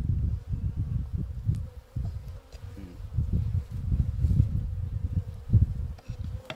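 Honey bees at an open hive hum in a dense, wavering buzz close by, swelling and dipping as they are brushed back in, with light rustles and no speech.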